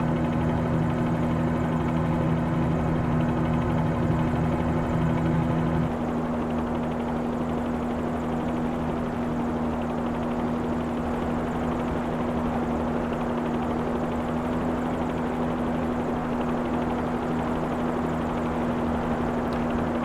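Helicopter in a flight simulator game, set over farmland near Los Angeles, with a steady rotor drone and engine hum that holds constant throughout, shifting slightly in tone partway but never stopping.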